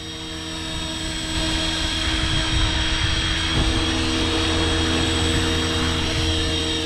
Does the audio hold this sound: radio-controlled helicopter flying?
yes